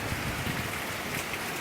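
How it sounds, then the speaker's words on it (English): Steady rain falls during Tropical Storm Irma, a continuous broadband hiss with gusty outdoor noise, close and fairly loud, with no voices. "Rain's picking up and new squalls coming in."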